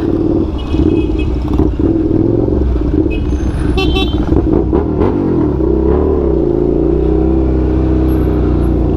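A Suzuki SV650 motorcycle engine on a night ride, a steady loud engine drone with a brief rise in revs midway, heard from the rider's position with wind rush.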